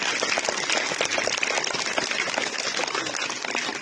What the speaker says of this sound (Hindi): शाबाश, तालियां बजाएं।